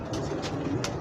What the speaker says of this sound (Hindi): साजिद भाई के कबूतर आके पीछे बैठे हैं